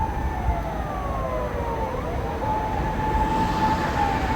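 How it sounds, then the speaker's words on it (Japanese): Ambulance and police car sirens wail, rising and falling in pitch against steady background rumble, continuous and moderately distant, with no talking. "サイレン。 救急車、パトカー。"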